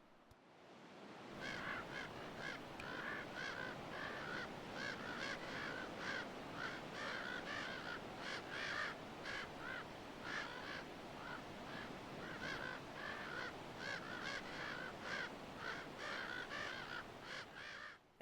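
Ravens call in a territorial alarm, a steady run of repeated harsh croaks and caws at Crystal Cove, heard from moderate distance over a constant surf-like background wash.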